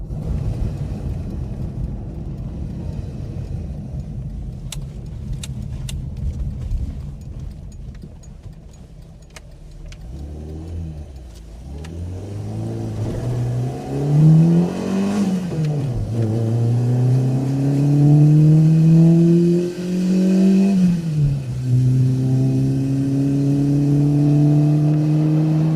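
An Autobianchi A112 small car accelerates through its gears from inside the cabin. After a low idle rumble, the engine revs in repeated rising sweeps broken by brief dips at each shift, growing louder toward the end.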